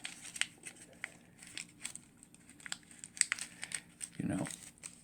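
A paper banknote is folded and creased by hand in bill origami, giving a run of light, close crinkles and rustles that ends in a fuller crumple, with a voice faintly in the background.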